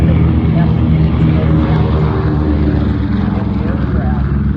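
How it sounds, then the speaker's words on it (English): Propeller airplane landing at the Buckeye Air Show in Arizona, a steady loud engine drone with low harmonic hum running throughout, with someone talking over it. "And here we see the airplane, beautiful landing by Mike, as usual."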